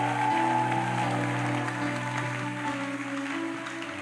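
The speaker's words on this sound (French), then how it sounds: "Si tu es d'accord, acclame très fort le roi de gloire." A church congregation applauds steadily throughout, a dense wash of clapping over sustained musical tones, with no one speaking.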